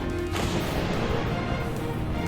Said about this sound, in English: pushed back by the immediate explosion that occurred as the cylinder hit the ceiling